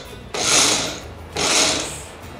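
Two short bursts from a kitchen mixer grinding spice paste with salt for stuffed potatoes, each about a second of loud, close whirring with a brief pause between.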